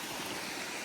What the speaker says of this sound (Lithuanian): Kriokliukas.